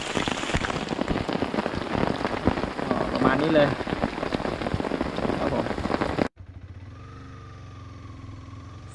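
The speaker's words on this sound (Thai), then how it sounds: "ให้ดูวิว บรรยากาศช่วง ฝนตกครับ" Steady rain pours down on a campsite beside railway tracks below the Pa Sak dam in Lopburi, a dense close patter under a brief spoken remark, before the sound cuts abruptly to a quieter scene.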